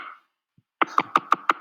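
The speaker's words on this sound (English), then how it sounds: "Let's see if knocking is a sound." A knocking sound effect: five sharp, evenly spaced knocks on a door, loud and close, coming after a short pause with a faint bit of sound before it.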